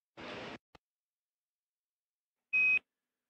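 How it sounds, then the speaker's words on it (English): In a Boeing Starliner spacecraft cockpit, the RHC caution alarm gives two short electronic bursts, a buzzy tone followed by a brighter pitched beep, set apart by silence. No one speaks. "The Starliner saw the RHC caution go into and out of alarm."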